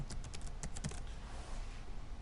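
Keys tapped on a computer keyboard, a quick burst of light, close clicks that tapers off into quiet room noise.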